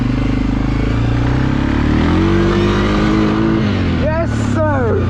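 A Suzuki KingQuad or Yamaha Kodiak ATV on a rainy trail ride in Pennsylvania, its engine droning close and loud, climbing in pitch as the throttle opens, then a short rising and falling whine near the end.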